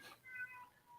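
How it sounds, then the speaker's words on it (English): A cat crying to be greeted from inside a room, giving one short, faint meow that rises and falls, heard alone in a quiet space. "You can hear my cat, right? He's in the room crying because he wants me to go there and say hi to him."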